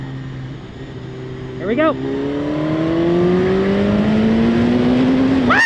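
A 2016 BMW S1000RR motorcycle accelerates hard through the gears, its engine note climbing steadily in pitch as it pulls, loud and close, with a rider speaking briefly at the start.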